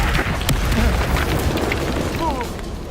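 Bombarda explosion spell cast in Hogwarts Legacy, a loud booming burst with a rumbling tail, heard under game music and voices.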